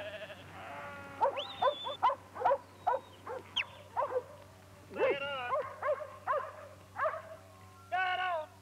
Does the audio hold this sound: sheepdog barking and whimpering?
yes